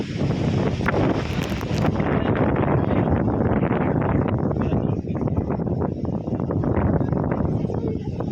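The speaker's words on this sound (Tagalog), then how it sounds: "Sobrang lakas ng hangin." Strong wind in Baguio City buffets the microphone in a constant loud roar, with rustling through it and no break.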